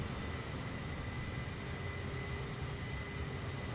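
Steady, loud roar of a Lufthansa Boeing 747's jet engines in Flight Simulator 2020, a constant broadband rumble with no breaks and no voices.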